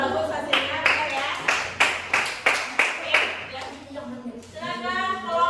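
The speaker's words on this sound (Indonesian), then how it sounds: "tepuk tangan untuk kelompok 2 udah bagus hasilnya ya" Classroom students clapping for a discussion group, about ten sharp, evenly spaced claps close by, mixed with voices, followed by talking and chatter.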